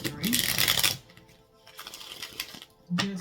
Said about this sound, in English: I'm gonna go ahead and do 1 hard shuffle